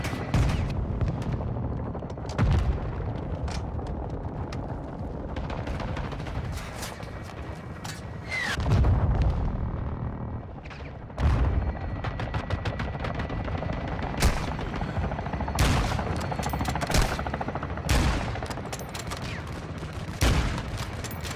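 Gunfire and explosions fill a Call of Duty Modern Warfare 2 campaign mission, sustained rifle and machine-gun bursts punctuated by several heavy booms spaced through the stretch, loud and close throughout.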